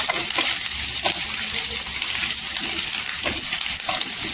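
Steady, loud sizzling of garlic frying in hot oil, with a few light scrapes of stirring over the continuous crackle.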